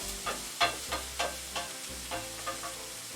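Potatoes stirred in olive oil in a pan for a Southern beef and potato casserole: a steady sizzle under repeated scraping strokes, roughly eight close, evenly spaced stirs, with no talking.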